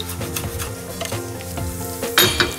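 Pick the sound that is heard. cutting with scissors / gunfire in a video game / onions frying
onions frying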